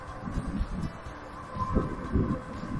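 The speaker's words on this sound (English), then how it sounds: "So it's an exceptionally windy day today." Gusts of wind buffet the microphone in low, uneven rumbling bursts, swelling and fading over a steady background hiss, on an exceptionally windy day among moving palm trees.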